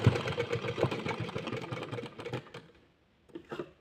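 A sewing machine stitches cloth in a tailoring class, with a rapid, steady mechanical whir and clatter that runs for over two seconds, then fades to silence before a brief final burst of stitching.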